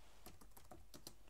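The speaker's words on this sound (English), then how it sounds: "I type some text," Text being typed on a computer keyboard in MS Word: a short burst of soft, quick key clicks in an uneven rhythm, close and quiet, with no talking.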